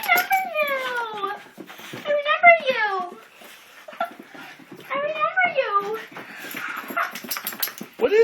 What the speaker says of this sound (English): Santa Claus brought you a dog.